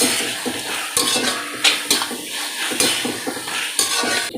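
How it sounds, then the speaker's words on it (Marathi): Vegetable hakka noodles with salt and sauces are tossed in a pan, with a rhythmic run of spatula scrapes and metallic clanks over a continuous sizzle, close and fairly loud. "आता आपण हे छान परतवून घ्यायचं आहे"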